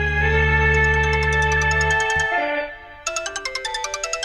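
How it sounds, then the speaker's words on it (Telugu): A phone ringtone plays loud and close, a sustained electronic melody that cuts off midway and then restarts as a rapid series of repeating chiming tones, with no talk over it. "ఎన్నిసార్లన్నా మోగనివ్వు, ఫోన్ ఎత్తద్దు"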